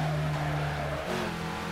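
Car drifting in the racing game Midnight Club 3, a loud steady engine roar with a sustained tire squeal, the pitch shifting partway through, no talk.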